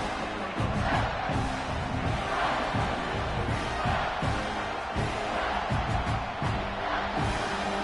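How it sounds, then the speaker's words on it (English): A large crowd roars steadily in a college football stadium on a third down, with UConn playing. The loud, sustained cheering continues throughout, with rhythmic chanting and stomping pulses under it. "Third down and the crowd really getting into it."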